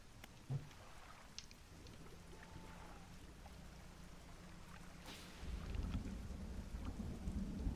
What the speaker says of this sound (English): like, crack of thunder scared me a little bit